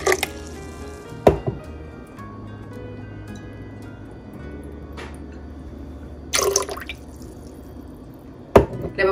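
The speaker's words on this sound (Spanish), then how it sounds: "Le estoy poniendo una taza de jugo de clamato." Clamato juice is poured into a cup in a kitchen while chiles de árbol and garlic are prepared nearby, giving a few short liquid splashes and drips against a quiet background.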